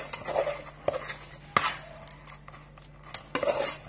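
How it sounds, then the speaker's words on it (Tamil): Steamed Kerala puttu rice flour mixture is stirred in a metal pot, giving scattered scraping and tapping clinks of a utensil against the vessel, close and fairly quiet. "இது இப்ப நல்லா கிளறி விட்டுக்கிறணும்."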